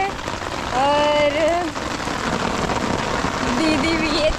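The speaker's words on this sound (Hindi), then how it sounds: "बारिश," Heavy rain pours onto a house roof with a constant hiss and patter, while voices speak briefly over it.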